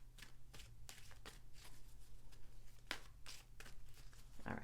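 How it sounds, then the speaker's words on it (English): Tarot cards shuffled by hand in a steady run of soft riffling bursts, close and fairly quiet, with a low electrical hum underneath. "these cards don't shuffle very well"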